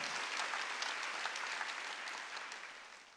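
A church congregation applauds during a Wednesday worship service, a dense, sustained patter of many hands clapping at once, fairly distant and fading slightly toward the end.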